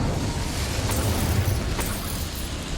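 An Incendio fire spell is cast in Hogwarts Legacy, producing a loud continuous rushing roar of flame that holds steady for nearly three seconds.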